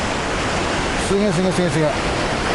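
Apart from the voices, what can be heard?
Kegon waterfall roaring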